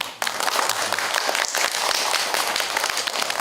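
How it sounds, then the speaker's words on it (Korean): An audience at a public science lecture on thermal management breaks into applause that starts abruptly and continues as a full, even patter of many hands, with a few sharper individual claps standing out. "박수."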